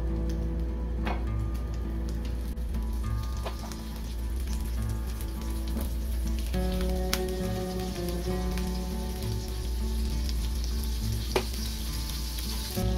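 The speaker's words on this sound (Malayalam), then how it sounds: "ചട്ടി ചൂടായി വന്നാൽ ബട്ടർ ഇട്ട് കൊടുക്കാം." Butter melting in a hot pan over a medium-to-low flame crackles with a steady, even sizzle, punctuated by a few sharp clinks of utensils; no voices are heard.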